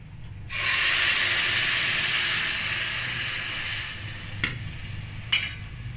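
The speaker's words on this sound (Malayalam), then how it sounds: "അതിനുശേഷം ഇത് നമ്മൾ ഒഴിച്ചു കൊടുക്കണം ഇതാണ് നമ്മുടെ പാലക്ക്" Spinach puree hits a hot pan and bursts into a loud, broad sizzle that hisses steadily for a few seconds before easing off, followed by a couple of sharp clinks.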